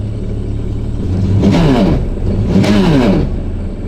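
A jet ski engine kicks over and settles into a steady idle, with two swelling revs rising and falling over a constant low rumble, fairly loud and close, no voices.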